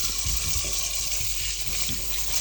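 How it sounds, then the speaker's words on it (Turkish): Tap water runs steadily into a sink as hands are washed under it, a continuous close splashing stream with no talk. "hemen bir elimi yıkıyorum"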